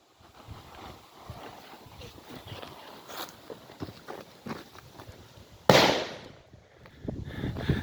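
A Bad Bulldog firecracker explodes outside in a single sharp, loud crack after low background rustling, with a short decaying tail and outdoor ambience afterward.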